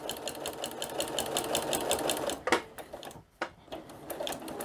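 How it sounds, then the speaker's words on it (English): Sewing machine stitching down the center of a rag quilt panel, a close, steady rapid chatter of the needle that briefly stops and restarts near the end. "stitch right down the center of this part of the panel"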